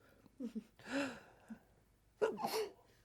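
A small, soft sneeze preceded by a quick intake of breath, close and quiet, followed by a second short burst.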